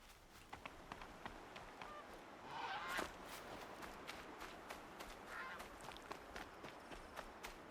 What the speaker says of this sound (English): Frickin' geese.